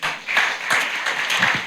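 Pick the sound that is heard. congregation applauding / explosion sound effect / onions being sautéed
congregation applauding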